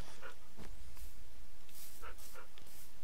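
Dogs being tamed in a video game bark and yip in short sharp bursts, several spaced yaps over a constant hissy background with no talking.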